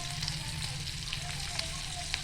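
KFC-style chicken frying in a pan over a medium gas flame gives a steady, close sizzling hiss with a low burner hum beneath, continuous and unbroken, with no talking.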